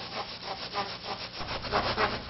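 A straight edge scraping and rubbing through wet mortar on a countertop being prepared for ceramic tile, a close, fairly quiet rasping stroke repeated in a steady rhythm.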